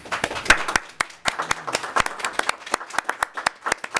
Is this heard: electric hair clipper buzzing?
no